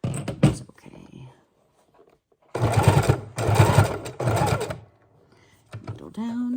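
A sewing machine stitching a small homemade journal, running in three quick close bursts of rapid mechanical chatter separated by pauses, with soft handling noises and a faint voice around them.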